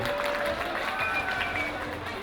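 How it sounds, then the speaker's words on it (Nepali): A dense wash of audience clapping and crowd noise at a Maghe Sankranti community celebration in New York fills the space continuously, with a few whistle-like tones rising above the roar. "एकचोटि जोरदार ताली सुन्न चाहन्छु तपाईँहरूको"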